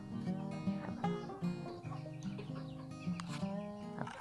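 Chickens cluck repeatedly on a Betong chicken farm during the rainy season, the hens loud and close with overlapping, uneven calls and a few sharper squawks.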